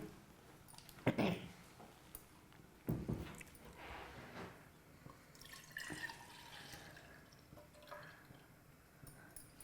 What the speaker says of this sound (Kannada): ಈಗ ಹಾಲು ಹಾಕೊಳ್ಳೋಣ